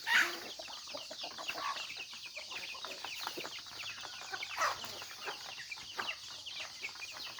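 Free range chickens and cockerels cluck and squawk busily at feeding time, many birds overlapping in quick bursts, fairly close with a low steady farmyard background.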